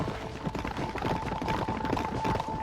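Horse hooves galloping in Red Dead Redemption, a quick, even clip-clop rhythm close by, with no voices.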